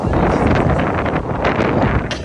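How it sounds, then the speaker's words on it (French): Strong wind roars and buffets the microphone in a continuous, loud outdoor rush with gusty swells and no break. "On voulait du vent, autant vous dire qu'il y en a là."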